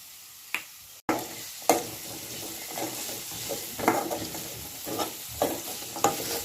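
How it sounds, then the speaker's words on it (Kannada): Garam masala, coriander, pepper and cumin powders stirred into a sizzling chickpea and spinach gravy in a pan: steady frying hiss with repeated close scrapes and clinks of a spoon against the pan. "ಒಳ್ಳೆ ಮಿಕ್ಸಪ್ ಕೊಟ್ಟು"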